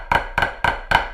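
Four sharp drumstick double stops struck with a slight flam, each hit smeared into a doubled crack rather than one clean pop, evenly spaced about a third of a second apart, close and dry with no talking.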